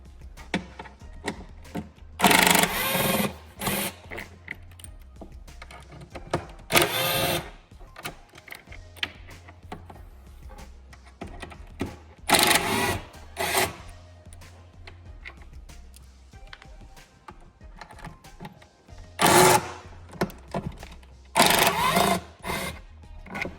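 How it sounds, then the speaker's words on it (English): A power driver spins out Torx 30 bolts from the skid plate of a Canyon, in several loud, short whirring bursts separated by quieter gaps with faint clicks and handling noises. "So now you'll want to remove the 4 Torx 30 on the skid plates."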